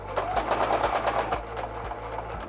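A sewing machine stitches the seam of a fabric zipper pouch nearby, its needle running in a fast steady chatter broken by brief pauses and restarts.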